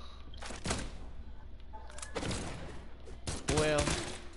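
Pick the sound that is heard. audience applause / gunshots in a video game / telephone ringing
gunshots in a video game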